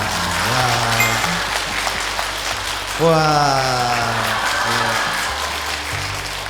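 One person clapping on a Korean talk show with a Buddhist monk, sharp claps running under ongoing conversation, with a rising exclamatory voice partway through.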